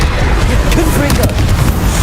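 A Confringo blasting curse booms in the Hogwarts Legacy video game amid dense, loud combat noise, with rumbling blasts layered under a voice talking throughout.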